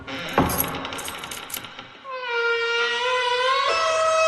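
Small metal keys jingle and clatter near the start, with a sharp metallic drop, before a sustained bright ringing tone takes over and holds steady to the end.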